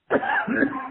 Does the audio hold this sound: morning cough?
yes